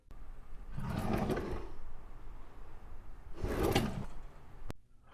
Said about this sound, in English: the distinct noise of a drawer opening and closing